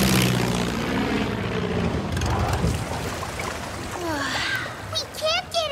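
A cartoon propeller plane flies with a steady buzzing engine drone, joined by splashy water-like noise and animated character voices talking over it toward the end.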